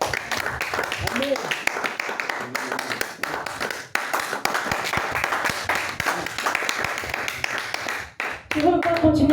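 Church congregation applauding: continuous scattered clapping of many hands throughout, with voices speaking and calling out over it and a brief lull near the end.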